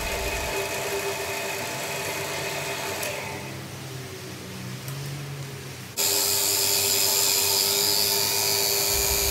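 A benchtop drill press running on 220-volt household power hums and whines steadily. It dips lower and quieter partway through, then comes back louder and brighter. No one speaks.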